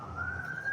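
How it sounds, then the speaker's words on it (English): A police car siren wails in the distance as one steady rising tone over low street rumble, audible for under a second during an outdoor walk. "You guys might hear police sirens in the background"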